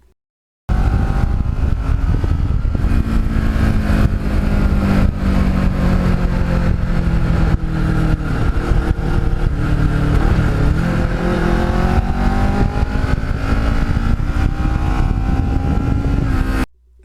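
Kawasaki Ninja motorcycle engine running steadily while riding on the road, a loud continuous drone whose pitch rises and falls with the throttle for the whole stretch, with no talking.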